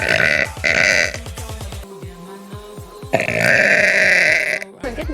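A woman lets out a series of loud, long, deep burps one after another while streaming, each drawn-out belch close and prominent, separated by brief pauses.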